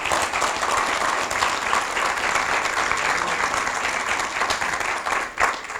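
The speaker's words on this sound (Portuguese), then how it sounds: "Vamos aplaudi-lo e nos alegrar nele." A church congregation applauding during a service, loud continuous clapping from many hands with crowd murmur, steady throughout and dipping briefly near the end.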